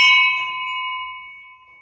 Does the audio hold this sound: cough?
no